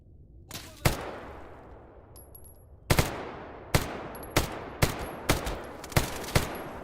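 Gunfire from a gun in the shooter GAMMA, loud close single shots, two early then a steady series of evenly spaced reports each followed by a short echoing tail, with no talking.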